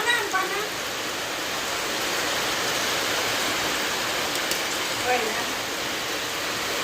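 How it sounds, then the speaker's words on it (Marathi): Steady rain hisses down evenly, a dense wash of drops, with brief bits of speech at the start and again near the end. "त्याप्रमाणे पाऊस लागता"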